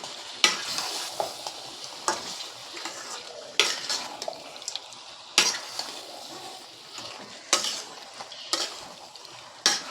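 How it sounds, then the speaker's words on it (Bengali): Chicken is stir-fried with spice masala in a pan, with repeated scraping stirs and clanks of a utensil against the pan over a soft, continuous sizzle. "চিকেনটা দিয়ে ভালো করে মশলার সঙ্গে মিনিট 20 কষিয়ে নিতে হবে।"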